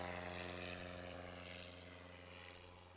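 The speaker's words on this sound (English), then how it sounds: "It was a clean takeoff." A propeller-driven STOL airplane takes off at a short takeoff and landing competition in Gainesville, Texas, its engine a steady droning buzz that stays loud and gradually fades as it climbs away.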